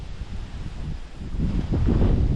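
Steady low wind buffeting a microphone outdoors in a vegetable garden, rumbling throughout and growing stronger toward the end, with no voices.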